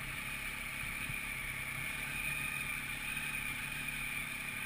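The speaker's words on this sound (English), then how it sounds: "Starting this bike's the same as every other Triumph. Sounds the same." A Triumph motorcycle engine runs with a steady, continuous drone and whine at moderate level for the whole stretch, with no talk over it.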